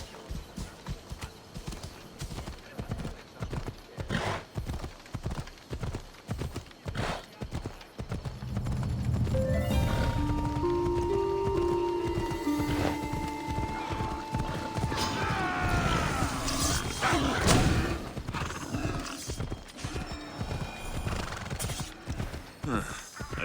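Hooves clip-clop in a steady galloping rhythm as a horse is ridden across an island in the game Assassin's Creed Odyssey, with creaking tack and a brief whinny over outdoor ambience and no voices.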